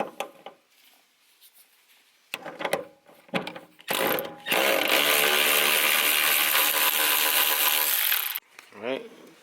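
A 10mm socket on a powered ratchet backs out the bolts of a 525 Hellcat fuel pump in a Civic: a few light clicks and knocks, then about four seconds of loud, steady, close-up whirring buzz that stops abruptly.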